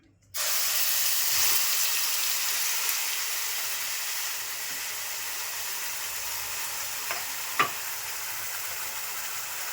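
Ground masala paste for a Malvani mackerel curry hits hot oil in a pan and sizzles loudly at once, a steady close hiss that slowly settles, with a few faint clinks.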